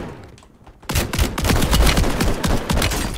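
Sustained rapid gunfire in a shooter video game, a brief quieter lead-in and then a loud, dense stream of close shots hammering continuously to the end.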